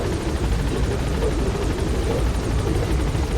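A helicopter in Metal Gear Solid V takes off, its rotor and engine making a loud, continuous, steady roar with a fast chopping texture.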